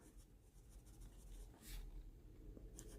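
A cheap fountain pen writes on the paper of a Field Notes notebook, its nib giving soft, continuous scratching strokes at close range, quiet and steady with a few brighter swishes, with no talking.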